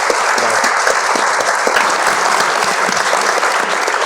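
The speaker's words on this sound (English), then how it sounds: "Round of applause for all our panel." A conference audience gives loud, sustained applause to a climate finance panel, thick even clapping from a large crowd throughout.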